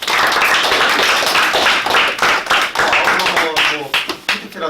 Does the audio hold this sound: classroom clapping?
yes